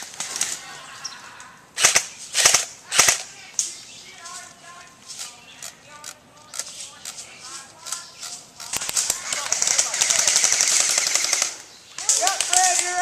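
Airsoft guns fire during an outdoor airsoft game: rapid bursts and single cracking shots, some loud and close, others more distant, with dense stretches of sustained full-auto fire and no talking.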